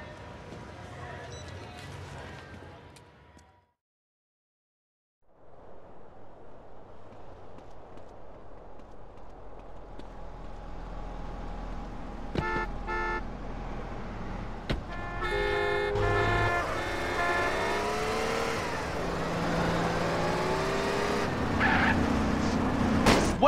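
A car engine in GTA San Andreas hums steadily, then revs higher with rising pitch and horn toots as it speeds up, with a brief silent gap near the start and game music and sound effects layered over the drive.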